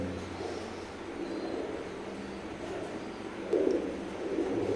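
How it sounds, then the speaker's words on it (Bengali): Oman bloodline Teddy pigeons coo in low, soft bursts, a couple of louder calls standing out near the end against a steady faint background hum. "ওমান ব্লাড লাইনের নিউ এক জোড়া কবুতর"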